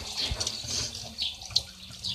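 Water runs from a household tap while a young child washes their hands, a close, continuous splashing hiss with small bursts, no talking.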